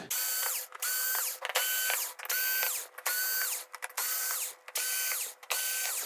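A power screwdriver backing screws out of a circuit board on a Samsung PN59D6500DF plasma TV, whirring in repeated short ratcheting bursts separated by brief pauses, close and clear, with no talk.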